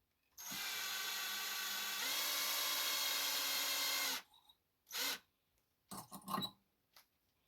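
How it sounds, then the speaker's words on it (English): A power drill whirs steadily for about four seconds, twisting leader wire bent in half for a handmade wooden fishing lure, its pitch stepping up midway, then stops, followed by a few short scraping and rattling bursts. "Just a piece of leader wire bent in half and chucked up in your drill"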